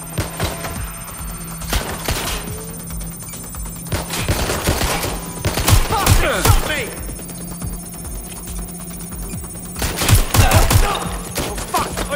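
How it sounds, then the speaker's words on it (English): Bursts of gunfire in the Watch Dogs Legion video game, with loud clustered volleys and sharp shots repeating through the stretch, separated by quieter gaps and overlapping game voices and electronic tones. "Incoming fire!"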